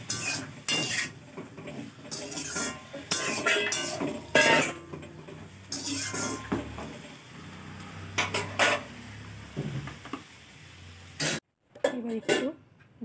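Beans and eggplant being mixed with salt and turmeric in a pan, with utensil clatter and scraping heard under ongoing speech, close and fairly loud, followed by a brief pause.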